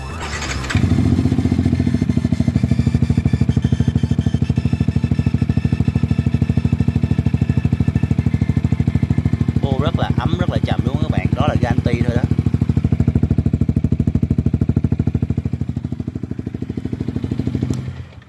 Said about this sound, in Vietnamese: Bây giờ mình nổ máy thử cho các bạn xem về cái bô nha.